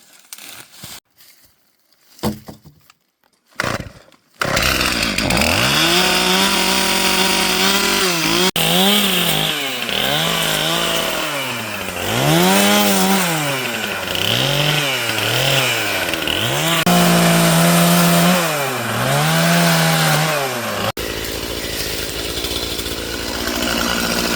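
Chainsaw limbing branches off a leaning, hung-up tree near an off-grid cabin, its engine revving up and down in repeated cuts at close range for about twenty seconds after a short quiet start.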